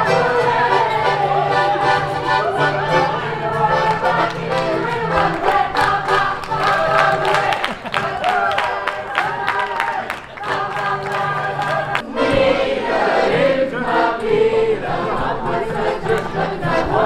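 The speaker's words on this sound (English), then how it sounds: "we heard music and clapping" Lively music with steady rhythmic clapping from a crowd at a wedding party in a town in the Dolomites, Italy, continuous and fairly loud, with voices and cheers mixed in.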